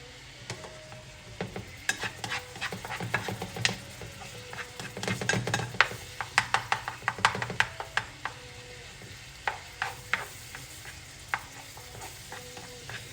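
Morel mushrooms and onions cooking in garlic butter, a soft continuous sizzle broken by many sharp clicks and scrapes of a utensil stirring the pan, close and steady throughout.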